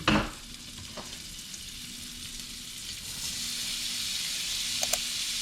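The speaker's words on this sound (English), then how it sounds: "before it does that, I'm gonna go ahead and put my onions in." Onions frying in a pan for seafood egg rolls, a steady hissing sizzle that follows a clatter as they hit the hot oil, with a couple of faint clicks near the end.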